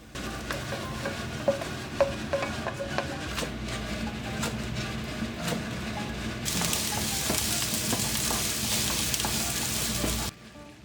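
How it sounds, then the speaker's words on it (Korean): Scrambled eggs sizzle and crackle steadily in a hot pan, with scraping stirs and clicks of a utensil, and the hiss grows louder partway through. "계란을 다 풀어줬다면 스크램블을 해줍니다"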